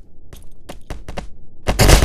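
Shotgun fire in the ragdoll sandbox game Melon Playground: a few sharp separate blasts, then a louder, denser burst of firing at the end, with no talk.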